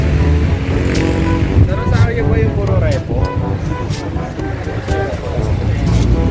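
Many big-bike motorcycle engines idle and rumble together in a parking lot, a loud continuous mix of revs, with voices talking over it.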